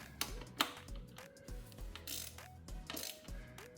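A socket wrench ratchets a bolt on the faulty camshaft position actuator of a 2024-2026 Buick Encore GX 1.3L, a steady series of close, crisp clicking strokes in a tight engine bay.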